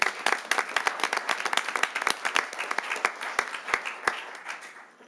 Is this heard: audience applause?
yes